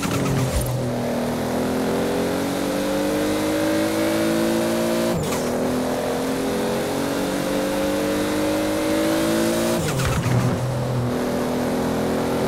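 A Supra race car in the Forza Horizon video game accelerating hard, its engine climbing steadily in pitch through three loud, close gear pulls with brief drops at each shift.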